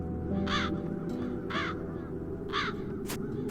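Several raspy crow caws ring out in the video game The Dark Eye: Chains of Satinav, spaced about a second apart, each clear and fairly close, set against a continuous soft background hum.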